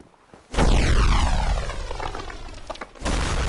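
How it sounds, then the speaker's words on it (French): A huge booming explosion from the video game Dark Souls Remastered bursts in abruptly and roars loudly, its falling whoosh and rumble decaying over a few seconds before another loud hit lands at the end. "Ah, ce bruit d'explosion trop stylé."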